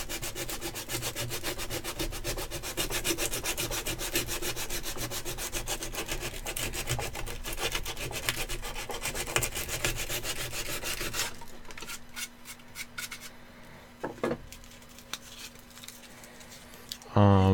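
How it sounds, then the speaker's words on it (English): A Dremel rotary tool grinds steadily at close range for about eleven seconds, a dense, harsh buzzing drone that then cuts off, leaving quieter scattered handling noises. "I think he can deal with the Dremel noise in the headphones, Jerry."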